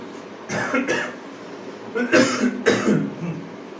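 A few harsh, close coughs in quick bursts, followed by a throat-clearing hack, with no other sounds.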